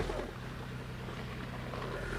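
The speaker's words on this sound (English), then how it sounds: "This engine is running in the Sea of Cortez with the salt water." A car engine runs submerged in the salt water of the Sea of Cortez, a faint, steady low drone with an even mechanical hum throughout.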